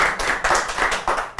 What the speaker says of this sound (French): Applaudissez là-dedans, Pauline, ça travaille fort, là.